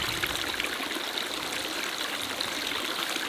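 A small brook trickles beside a forest path in the Erzgebirge hills, a continuous, bright, bubbling wash of flowing water, close and steady, with no voices.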